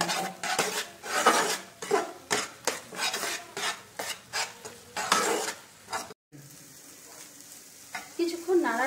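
Eggs stirred and fried with spices in a pan for dhaba-style tadka dal, a busy sizzle broken by repeated rhythmic scrapes of a utensil against the pan, close and fairly loud, with a brief pause near the end.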